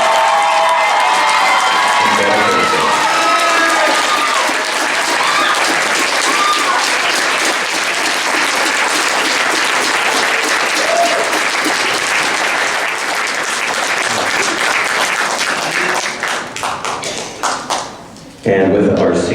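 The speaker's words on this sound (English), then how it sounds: "Let's please give a round of applause to our seniors for their hard work." Concert audience at a 2019 band concert applauds seniors, a sustained, loud wash of clapping with some cheering that tapers off near the end.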